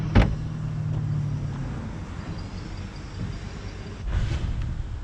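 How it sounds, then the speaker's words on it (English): A half-ton pickup truck towing a 1966 Ford Mustang rumbles steadily at close range, with a sharp knock at the start and another bump near the end. "we're towing with a half-ton truck"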